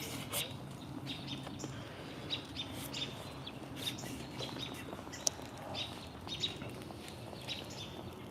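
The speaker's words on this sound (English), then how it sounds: "Robins are about to roost, I think. I think that's why they're making so much noise." Robins chirping and calling repeatedly in the distance before roosting, scattered bright notes over a quiet outdoor background, fairly faint.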